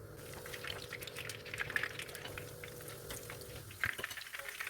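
Nargisi kofta frying in hot oil, a quiet, steady bubbling sizzle with small crackles and occasional louder pops, heard alone without talk.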